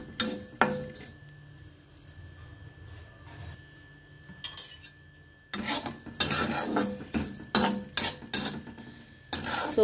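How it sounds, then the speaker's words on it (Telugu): Fennel seeds and ajwain roasting in a pan, stirred with a metal spoon: repeated scraping clinks against the pan, quieter at first and then louder and busier, with no talking. "సోపు వాము వేగుతూ ఉంటే మంచి స్మెల్ వస్తుందండి"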